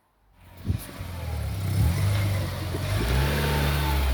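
An Alfa Romeo GTV, freshly resprayed, revs its engine and pulls away, the mid-pitched engine note rising from a quiet start into a steady, loud drone as the car drives off nearby.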